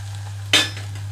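A single sharp metallic clatter of a spoon against a pan while stirring tomato into raw banana curry, standing out over a steady low electrical hum, with faint quieter scrapes after.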